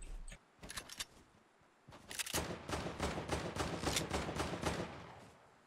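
Rapid gunfire in a Fortnite Battle Royale match: a few scattered shots, then a sustained burst of quick, evenly spaced cracks, moderately loud with no voices over it.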